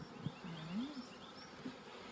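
Honey bees from a newly installed package hive drone and buzz close by, a thin wavering hum that rises and dips as individual insects pass near.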